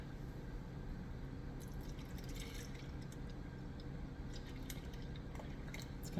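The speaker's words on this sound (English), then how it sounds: "I'm going to fill it up to 14 ounces, which is equivalent to 1 3/4 cup of milk" Milk trickles quietly into a blender bottle, a faint, soft pour with small drips and splashes throughout.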